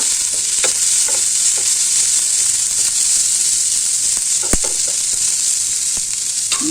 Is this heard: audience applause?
no